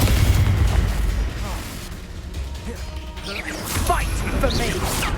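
A Confringo blasting curse explodes in the Hogwarts Legacy video game: booming crashes and bursts burst out near and loud, while a voice speaks over the chaotic battle.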